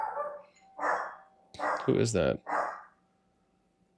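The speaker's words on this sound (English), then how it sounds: "My dog just starts barking." A pet dog barks a few times indoors, loud and close, during a live gaming stream. Someone speaks briefly between the barks.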